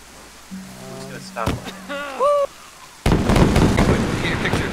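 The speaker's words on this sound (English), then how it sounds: "All these dudes shooting at us." Gunfire in the survival game DayZ, a burst of sharp noisy cracks filling the last part of the clip after a stretch of quieter game sounds and voices, loud and close.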